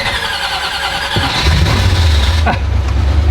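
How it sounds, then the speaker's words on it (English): A classic American muscle car engine cranks with a rapid whirring starter, then catches about a third of the way in and settles into a loud, deep, steady rumbling idle up close. "And then clutch in and crank her over."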